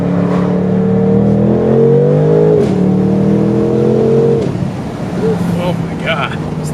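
An Alfa Romeo Giulia Quadrifoglio accelerating hard on the Monticello track, its engine note loud and close as it climbs through revs, dips at a shift, rises again and then eases off, with a voice talking over it.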